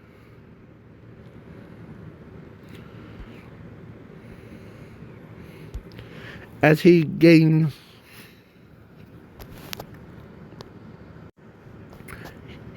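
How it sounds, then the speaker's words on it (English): A person blows their nose in one short, loud burst of honking snorts lasting about a second, set against steady low room noise. Talk comes before and after it. "I had to blow my nose"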